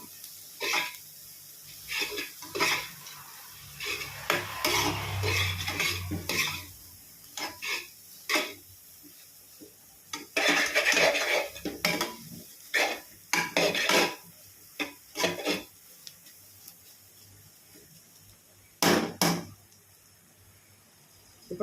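Vegetables for restaurant-style fried rice being sautéed with salt in a pan, heard as intermittent scraping and clattering of a spatula against the pan with brief metallic knocks, fairly close and with no talk.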